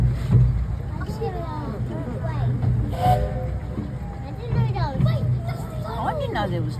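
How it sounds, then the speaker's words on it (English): A miniature railway train runs along its track with a low rumbling chug and clatter, under lively nearby talk and children's voices. "that other train's going up that track at the moment"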